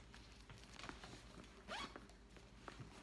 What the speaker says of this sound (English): Zippers are all good.